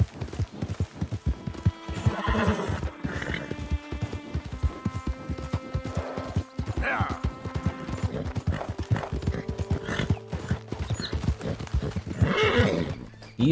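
Horse hooves clip-clop steadily with repeated neighs and whinnies from a horse in Red Dead Redemption II, layered over in-game music and ambience, continuous and fairly loud throughout.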